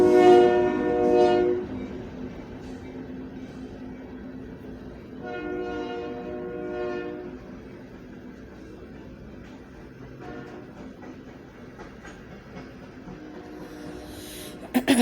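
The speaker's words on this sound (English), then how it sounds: "there's a train coming through, so it's going to get loud" Freight train rolling past outdoors with repeated horn blasts, loud near the start then trailing off into a steady rumble of rail cars.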